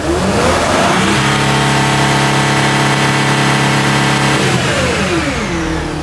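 A Mercedes Sprinter van diesel engine with low power and DPF trouble revs up and holds near 4,000 RPM, a loud, steady high-pitched drone with turbo whine, then drops back toward idle, close and alone.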